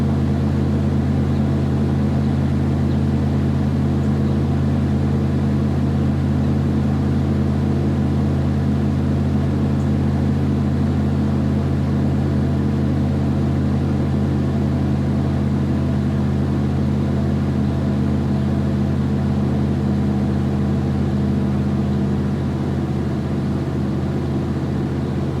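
A cold 1995 Chevy K1500 pickup engine held at a steady 2,000 RPM hums loud and constant with a deep, even drone and no variation, recorded close up with no talking.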